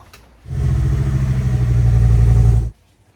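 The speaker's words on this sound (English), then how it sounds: "So that was the clip of the engine running." A car engine starts and runs at a steady idle for about two seconds, loud and close, then cuts off abruptly.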